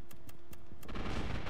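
Gunfire in the online shooter game Gotham City Impostors starts as a few sharp, separate clicks, then turns into a loud, continuous burst of shooting.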